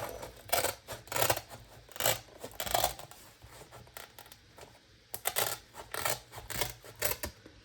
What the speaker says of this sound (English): I would come in and just cut the spine of the journal off